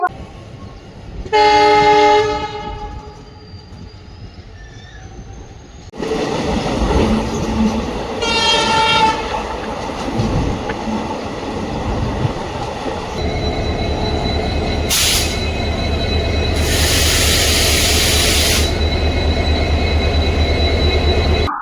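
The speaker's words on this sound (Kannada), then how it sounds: "train number 16220 Tirupati Chamarajanagar express ಅಲ್ಲಿ ಇವತ್ತು ನಾವು ಟ್ರಾವೆಲ್ ಮಾಡ್ತಿದ್ದೇವೆ" The Tirupati–Chamarajanagar Express passenger train, heard on board, rolls along with a loud, continuous rumble; a horn blares early, and sharp high-pitched squeals burst out later over the steady roar.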